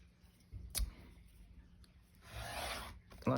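A paper trimmer slices down a sheet of paper in a quiet crafting setting: a brief click, then a soft rasping glide of the blade lasting under a second, followed by another small knock.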